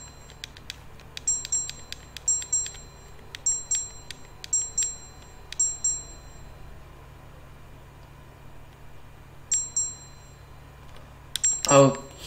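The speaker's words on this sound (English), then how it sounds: "I've interacted with a bell." A bell rung in the video game Ether One gives a series of short, bright metallic dings in quick clusters over a low steady hum, with a louder ring near the end.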